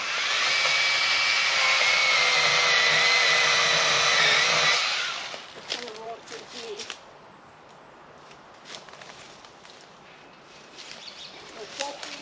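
Husqvarna Power Axe 35 battery chainsaw cutting through wood, a loud steady whine for about five seconds that then stops, leaving quiet outdoor noise with light rustling.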